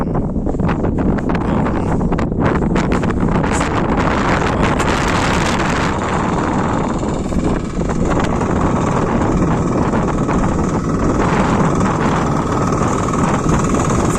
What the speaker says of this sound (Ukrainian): реально вітер страшний